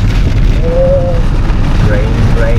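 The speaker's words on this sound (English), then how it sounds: "we can see the rain falling over here" Rain falling during a drive through the Yucatan in Mexico, a loud, dense, steady wash of noise with a rumbling low end that fills the whole stretch.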